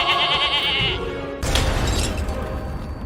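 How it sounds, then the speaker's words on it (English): A goat bleats in a wavering, nasal cry, then a loud explosive boom cuts in and leaves a dense, rumbling roar to the end, in the style of a cartoon sound effect. "exploding goat"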